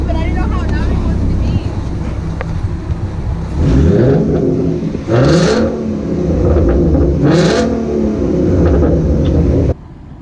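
A car fitted with BBK shorty headers revs loudly and up close, its engine note rising and falling through two strong throttle blips over a steady idle rumble, with wind buffeting the microphone.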